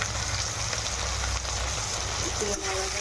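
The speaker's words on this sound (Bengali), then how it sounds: "মশলাটা ভেজে নেবো।" Spice paste with chopped tomato, turmeric and salt frying in oil over browned onions for a Bengali rohu fish curry, giving a steady, close sizzle that runs the whole time, with a voice speaking briefly near the end.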